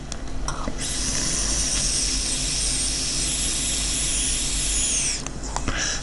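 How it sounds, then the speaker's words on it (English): A kettle hisses with a steady, loud rush of steam that holds for several seconds, then drops off near the end. "sounds like the kettle's ready"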